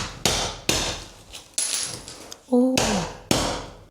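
A hammer strikes a chisel in about six sharp, loud, close blows at an uneven pace, with a short spoken exclamation between hits.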